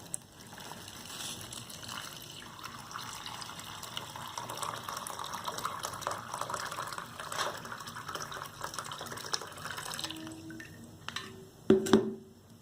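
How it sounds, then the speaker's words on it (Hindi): Water runs steadily into a box-shaped container for several seconds, a continuous filling trickle that ends with a few louder splashes and drips near the end. "देखिए इस डब्बा में पूरा पानी भर रहे हैं।"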